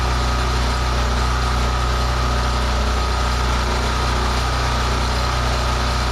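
A snowblower engine runs steadily on half choke while warming up, a loud, close, unbroken mechanical drone with a buzzing, even tone and no pauses.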